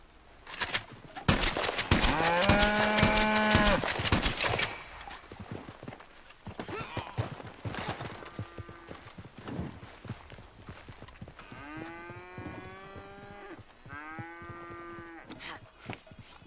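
Cows low in Red Dead Redemption with a long loud moo, then fainter moos later, amid hoof clops and scattered game sounds.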